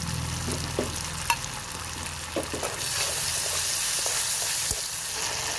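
Chopped garlic, onion and green chili frying in a pan for chicken lollipop sauce, a dense steady sizzle with occasional spatula scrapes and taps, close and continuous, no voices.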